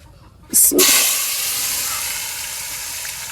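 Bitter gourd pieces dropped into very hot oil with turmeric and salt set off a sudden loud sizzle, which settles into a steady, close hiss of frying.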